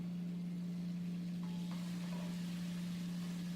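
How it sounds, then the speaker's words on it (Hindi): Vegetables and yogurt fry in a pan for vegetable pulao, a soft steady sizzle with a constant low hum under it and a few faint clinks. "दही के साथ अच्छे से मैं भूनूंगी।"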